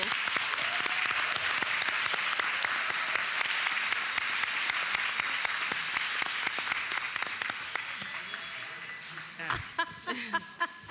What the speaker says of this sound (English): So if we can give a round of applause to our principals.